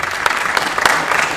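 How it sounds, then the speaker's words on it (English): Audience applause at a keynote talk during a sobriety gathering, a dense steady patter of many hands clapping, fairly loud and continuous throughout. "I feel funny about people applauding, and I don't mind the applause."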